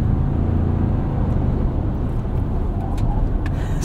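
A 2024 Toyota Tacoma pickup accelerating, heard from inside the cab as a loud, steady low engine drone blended with road noise throughout, no talking.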